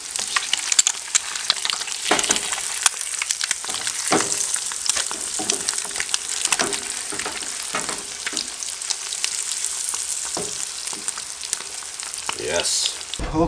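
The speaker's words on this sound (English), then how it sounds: "fried eggs and bacon grease" Eggs and bacon fry in bacon grease inside a hot tent during a winter storm, crackling and spitting steadily with dense sizzle and sharp pops throughout, close and loud.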